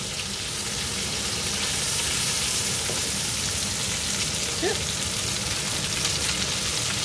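Onions and garlic sizzle steadily in a hot pan as they are stirred for rabbit in mustard sauce, a loud continuous crackle with occasional faint scraping.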